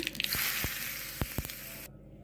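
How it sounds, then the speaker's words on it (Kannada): Asafoetida tempering crackling in hot oil for a traditional chutney: a steady close sizzle with a few sharp pops and spatters, which cuts off abruptly near the end. "ಇವಾಗ ಒಂದು ಘಮ ಘಮ ಅಂತಿರೋ ಇಂಗಿನ ಒಗ್ಗರಣೆ ಹಾಕ್ತಾಯಿದ್ದೀನಿ"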